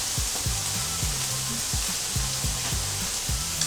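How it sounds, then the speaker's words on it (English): Sliced ham fries in a pan with a loud, constant sizzle and crackle, joined by a rhythmic series of clanking scrapes, roughly twice per second, as a utensil works the meat close by. "So, let's go ahead and fry that up."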